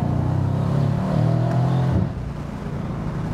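A Mercedes C-Class Cabriolet engine, downshifted by the paddles, revs loudly up close, rising then dropping back to a lower drone about two-thirds of the way through, with no talk over it.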